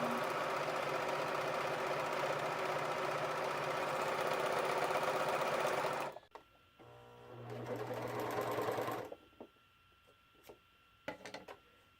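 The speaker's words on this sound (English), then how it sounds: "I'm serging them together" A serger sewing machine stitches two layers of fabric together in a loud, steady mechanical whir for about six seconds, then stops; a shorter burst of running follows before it falls quiet with a few small clicks.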